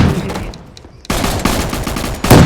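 Gunfire from a long gun in a Roblox video game: loud, dense bursts of rapid shots, a brief quieter gap, then more continuous firing up close.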